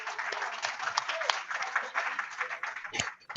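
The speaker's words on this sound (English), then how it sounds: "Can we have a round of applause for James" A small group at a People Powered Stratford and West Ham community meeting gives a brief round of applause for James, close, uneven clapping that tails off after about three seconds.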